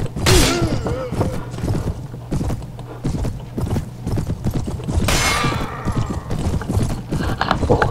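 Horse hooves gallop in the Prophesy of Pendor medieval combat video game, a loud, fast, continuous clip-clop with clashing battle noises and a brief whinny.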